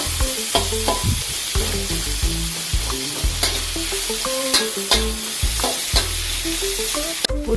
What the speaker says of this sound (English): Fry the bawang besar and the ginger.